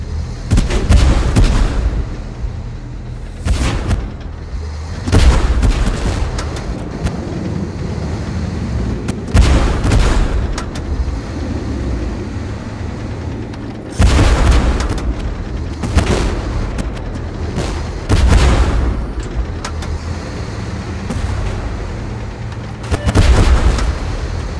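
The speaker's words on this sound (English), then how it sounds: "We are under gunfire!" In a tank combat video game, heavy tank cannon shots and artillery explosions boom repeatedly, about eight loud, deep blasts at irregular intervals with rumbling decay between them, with no talking.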